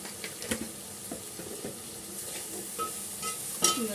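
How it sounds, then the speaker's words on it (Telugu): Raw prawns cooking in a pan for Andhra-style prawn biryani, a soft steady sizzle with small pops and occasional clinks, quiet and close with no talking. "రొయ్యలు ఫ్రై అవుతున్నాయి. కొంచెం వాటర్ వచ్చింది, అందులో మగ్గుతున్నాయి అన్నమాట. వేగుతున్నాయి."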